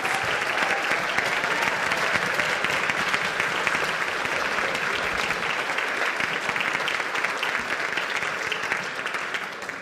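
A school board meeting audience gives teachers of the year a round of applause as they return to their seats. Thick, continuous clapping from many people stays loud for nearly ten seconds before easing slightly at the end.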